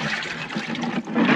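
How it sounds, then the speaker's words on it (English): Water gushes steadily into a bucket at a campsite with no hose, a loud, close, continuous rushing pour that swells slightly toward the end, with no talking. "got my trusty bucket I'm gonna fill up"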